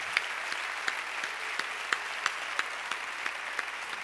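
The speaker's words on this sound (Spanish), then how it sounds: "Please give a very warm applause for Gaspar." Audience applause at a drum festival in Seville, steady clapping from a crowd with scattered sharper claps standing out, continuous and moderately loud throughout, honouring the sound engineer.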